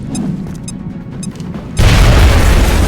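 A grenade blast in the video game XCOM: Enemy Within erupts after a short stretch of quieter game sound, a sudden loud boom followed by a sustained heavy rumble that fills the rest of the moment.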